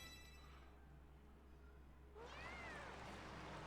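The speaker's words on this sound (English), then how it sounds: "Alright, where's that cat?" A cat meows in the Tales of Xillia 2 video game, a rising and falling cry entering after a quiet stretch over steady game background sound, moderately loud and alone without talk.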